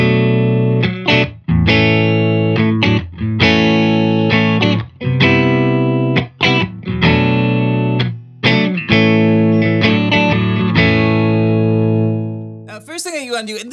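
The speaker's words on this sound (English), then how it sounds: "Silk Tone amp sounds like this." Electric guitar, a Walsh Guitars Yada played through a Silk Tone amp, sounding loud and clean with sustained notes and chords picked in a loose rhythm, ending with a brief noisy scrape.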